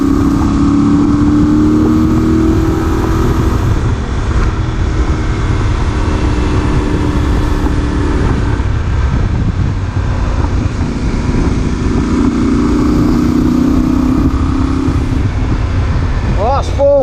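Voge 800 Rally motorcycle engine on a test ride, a steady loud drone rising and falling with the throttle in fourth gear, with wind rush over the microphone and a rider talking over it.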